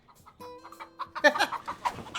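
A chicken clucks in a scene from the TV show Young Sheldon: a short run of close, fairly clear clucks and squawks with no talking over them.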